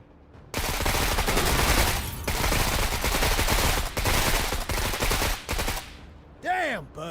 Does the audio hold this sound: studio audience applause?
no